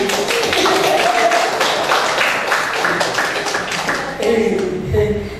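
Meeting participants at a women's working-group session clap together in a continuous, fairly loud burst of many hands, with some voices mixed in underneath.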